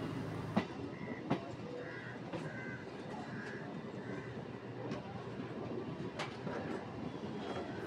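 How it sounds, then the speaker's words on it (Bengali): A local train pulls into Tarakeswar station, giving a steady, moderately loud rumble of rolling carriages broken by a few sharp clanks and knocks, with no speech. "আমাদের ট্রেন বর্তমানে এখন তারকেশ্বর স্টেশনে প্রবেশ করছে।"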